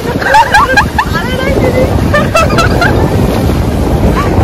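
Sea waves wash steadily onto the shore at Mandarmani in the morning, a loud continuous surf roar mixed with wind buffeting the microphone, while people talk over it.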